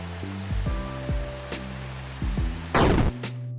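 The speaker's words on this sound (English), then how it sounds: "Right now I only have a system for rain, but I can already tell that it makes the world seem much more alive." Rain weather effect in the indie video game Elysian Ascent: a steady hiss of rainfall with scattered droplet taps, layered over low tonal game sounds and a brief louder burst near the end.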